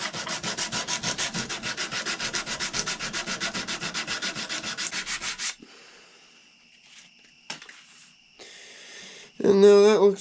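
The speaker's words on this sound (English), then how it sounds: "sandpaper. This is some 80 grit." Coarse 80-grit sandpaper rubbed briskly over a powder horn, a fast steady back-and-forth rasp for about five seconds, then quieter handling noises and a brief voice near the end.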